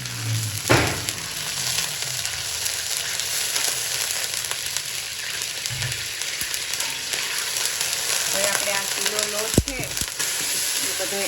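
Urad flour stirred into hot ghee in a pan, a continuous dense sizzle throughout with occasional soft knocks and scrapes of stirring, close and steady.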